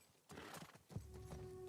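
Horse in The Last of Us Part II, a few hoof clops followed by a close, loud whinny, with no voices.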